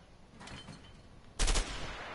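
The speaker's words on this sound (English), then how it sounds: "I didn't know you could shoot." Gunfire in the video game A Way Out: a few soft shots early on, then one loud, sharp burst near the middle that fades into a lingering tail, with no speech.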